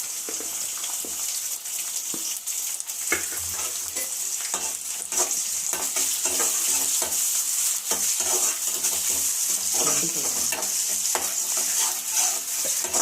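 Onion frying in a pan as it is stirred, a loud continuous sizzle with repeated scraping and clinking of the spoon against the metal, heard up close throughout.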